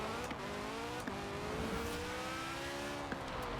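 A small front-wheel-drive car accelerates in Forza Horizon 4 with stretched gear ratios, its engine note climbing steadily through several gear changes, each marked by a brief dip and click before the pitch rises again.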